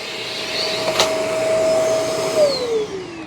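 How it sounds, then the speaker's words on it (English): A Shark smart vacuum cleaner runs with a steady high motor whine and airy rush, pitch dropping as it winds down near the end, close and alone. "This is an awesome vacuum cleaner."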